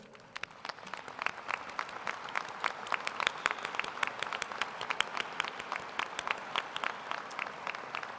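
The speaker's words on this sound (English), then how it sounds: "Would all members of the graduate faculty at Kansas State please stand so we can show our appreciation with a round of applause for your diligent service." A commencement audience at Kansas State's graduate school ceremony gives the graduate faculty a round of applause, with steady, sustained clapping from a large crowd heard from a distance and no talk over it.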